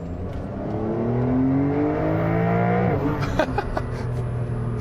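Porsche 911 Targa 4S in Sports Plus mode accelerating hard from 50 to 100 km/h, engine tone rising steadily under a loud interior drone, then dropping briefly at a gear change before climbing again.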